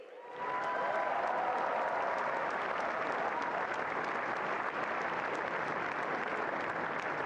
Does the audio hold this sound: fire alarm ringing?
no